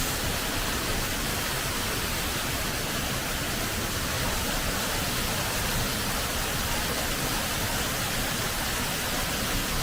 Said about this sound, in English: Water rushing between the boats.